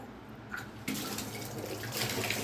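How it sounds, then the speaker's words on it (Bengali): Leafy greens being washed under a running kitchen tap, a steady close rush of water that grows louder and fuller partway through as the flow hits the leaves and basin. "শাকটা ধোবো"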